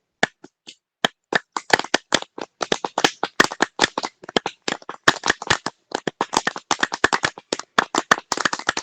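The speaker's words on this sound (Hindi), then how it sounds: "और थोड़ा सा ताली लगा लेते हैं," Hand clapping during a yoga pressure-point exercise, starting as sparse single claps and building into a fast, dense, uneven run of sharp close claps from a group, with no talk.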